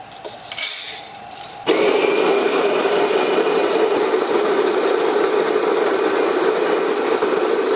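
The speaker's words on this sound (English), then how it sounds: "Let's grind this, see what it's like." Whole coffee beans, about 30 grams, being ground in a portable grinder, starting with brief rattling and handling, then a loud, steady, close grinding whir that continues to the end.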